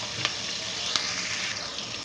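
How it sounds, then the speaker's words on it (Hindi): Onions sizzle steadily in a hot pan while frying to golden, a dense, even hiss with a couple of faint pops. "प्याज गोल्डन होने तक हम इसको भूनेंगे"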